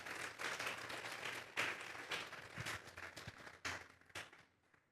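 A church congregation applauding, with broad clapping that swells, holds for several seconds and then fades out, moderately distant and without speech on top.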